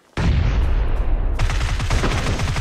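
Gunfire in a battle royale shooter, a loud, dense, continuous barrage of close shots that starts abruptly and keeps hammering for the full length, with rapid repeated cracks in the second half.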